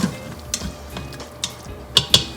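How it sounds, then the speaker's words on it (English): Tomatoes sautéing in a pot with salt, stirred with a utensil: quiet background sizzle broken by several light scraping and clinking stirs, the last two sharper, heard up close with no talk. "So let's saute this and keep cooking for about 5 minutes."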